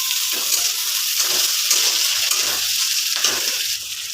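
Spice paste and tomato sizzle steadily in a hot pan for an egg dish, a dense continuous hiss of frying that stays loud and close throughout, with no voices.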